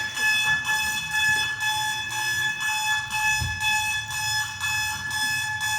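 An alarm beeps in a steady pulsing rhythm, loud and continuous, before the snooze is pressed in a showroom setting, with faint low background noise underneath.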